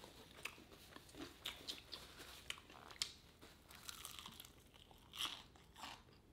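Crunchy food being bitten and chewed up close in a quiet room, irregular crisp crunches and crackles repeating over several seconds, one louder crunch near the end.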